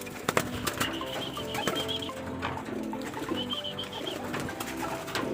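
Racing pigeons being urged to fly, giving soft cooing and bird calls with scattered flapping and clattering sounds throughout, close by.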